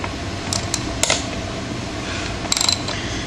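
Ratchet wrench tightening bolts on a sprocket, heard as short bursts of quick clicks over a steady mechanical hum.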